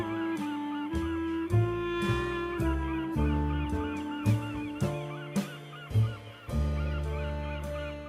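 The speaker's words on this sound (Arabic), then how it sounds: "ونختم مع طائر نورس وهو بيخطف اخطبوط من المية وبيسحبه للشاطئ" A seagull snatches an octopus from the water and drags it toward the shore, giving loud, harsh, honking calls repeated in quick bursts of about a dozen, close up and with no voices.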